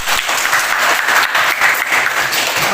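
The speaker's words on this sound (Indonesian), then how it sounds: "berikan tepuk tangan kepada Noviani ya." A classroom audience claps together for a student, a loud, continuous burst of many hands with slight swells, filling the whole stretch without speech.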